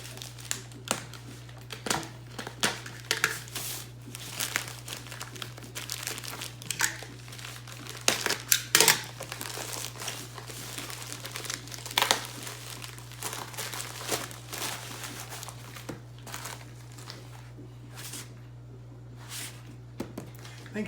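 A padded mailing envelope holding a box from a USPS delivery crinkles and rustles as it is handled, with irregular crackling bursts close by over a steady low hum and occasional quiet speech.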